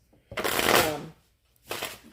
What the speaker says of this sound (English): Now you can watch us shuffle.